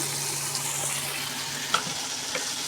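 Potatoes frying in a pan, a steady soft sizzle throughout with a couple of small clinks from stirring, no talking.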